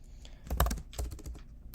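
Fingers tap a computer keyboard nearby, a quick flurry of soft clicks at moderate volume with no talk.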